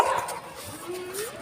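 A Golden Retriever named José gives short whining yelps and a rising whimper close by, fairly loud at first and then softer, with faint voices in the background.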